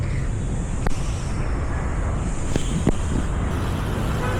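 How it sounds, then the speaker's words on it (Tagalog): Steady roadway traffic rumbles through a busy Makati city street, a continuous loud low wash of passing vehicles and wind buffeting with a few faint clicks, no talking. "Traffic."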